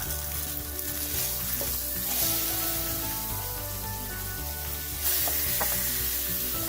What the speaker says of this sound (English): Time to flip our beautiful fillet.